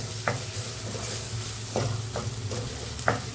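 Oysters stirred into fried spicy masala in a pan, a steady sizzle with a low hum beneath and several clear scraping strokes of a spoon against the metal, spaced irregularly, with no speech.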